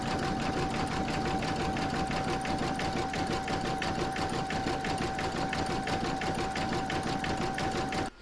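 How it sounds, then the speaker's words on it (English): A home embroidery machine runs satin stitching around the inner frame of an in-the-hoop photo frame, a steady, even, fast needle hum with a fine rapid chatter that carries on without a break for the full stretch. "You're now going to stitch round number six, and that's going to do the satin stitching around the inner frame."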